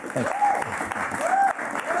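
A TV interview studio audience claps briefly and unevenly, and voices can be heard mixed in with the clapping.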